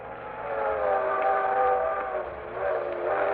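A circus train's whistle sounds in a sustained, mournful chord, swelling and fading slightly over a muffled rumble, heard alone without talking.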